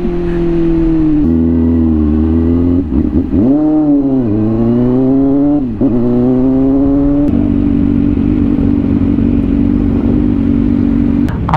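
A CFMOTO Voom 500SR motorcycle engine on a track day, idling loud and close then blipped in several sharp revs that rise and fall before settling back to a steady idle.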